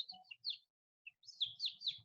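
A dentist whistles a Tweety bird imitation: a run of bright, high chirping tweets in two quick bursts split by a short pause, clear and close with no talking.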